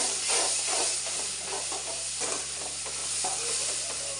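Ground tomato purée sautéing in a pan for okra tamarind thokku, a steady hiss and sizzle with faint stirring scrapes throughout, fairly close and alone.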